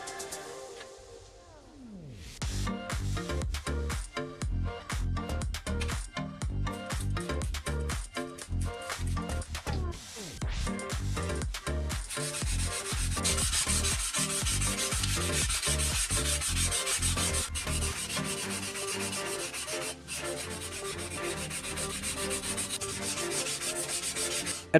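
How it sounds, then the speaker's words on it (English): Sandpaper worked over the surface of a rusty steel saw blade in a carpenter's workshop, continuous close rhythmic rubbing strokes that grow brighter and more gritty partway through, with no talk. "start sanding the surface"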